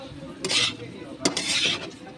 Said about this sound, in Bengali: আমি এটাকে অনেক নাড়বো, প্রায় 10-15 মিনিট পর্যন্ত নাড়বো আমি।